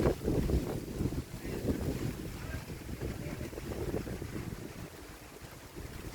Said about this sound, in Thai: โอ้วันนี้ลมแรงมากเลยนะคะ